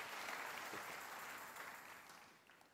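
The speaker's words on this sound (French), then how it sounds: "Vous pouvez acclamer les frères." Church congregation applauding, a dense wash of clapping that is fairly faint and slowly fades over a few seconds.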